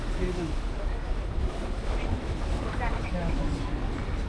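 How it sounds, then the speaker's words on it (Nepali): A small ferry boat's engine runs steadily on the crossing from Mumbai toward Elephanta Island, a constant low rumble mixed with wind and water noise, with voices faintly underneath. "यहाँ इन्जिन रहेछ यसको है यहाँबाट धुवा जाने"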